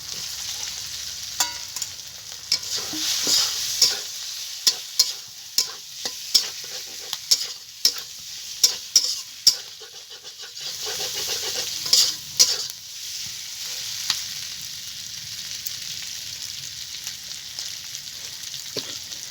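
Fried potatoes stirred into a sizzling spice mix in a pan for bottle gourd and prawn curry, with sharp rhythmic spatula scrapes and clacks over a continuous close fry hiss.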